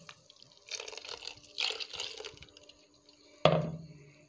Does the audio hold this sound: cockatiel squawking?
no